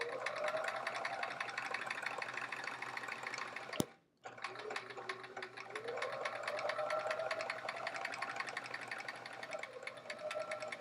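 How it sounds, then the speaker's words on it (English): Sewing machine stitching narrow white borders onto a quilt block, a steady close mechanical whir running continuously, briefly stopping near four seconds before resuming at an even pace. "just getting these little white borders sewn on here"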